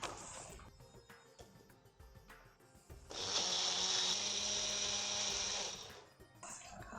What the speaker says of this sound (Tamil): கெட்டியாக அரைச்சிடலாம்.